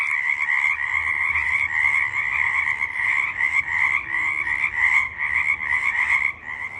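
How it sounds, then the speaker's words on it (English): Pacific tree frogs, also called chorus frogs, croak at night in a loud, dense chorus of overlapping rhythmic calls that carries on steadily without pause. "I'll play a clip of them at night because they are so loud."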